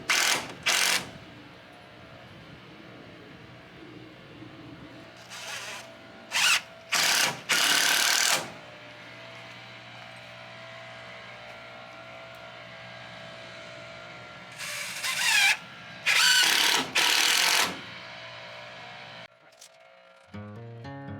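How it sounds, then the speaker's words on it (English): A power drill drives screws into the wooden frame of a shed in short, loud whirring bursts separated by pauses, about eight bursts in all, with faint handling noises between them. "I'm going to go ahead and put the last screws in"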